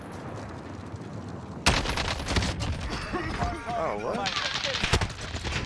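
Rapid automatic gunfire rattles in a shooter video game, dense bursts of shots crackling from mid-clip onward, with players talking over the firefight.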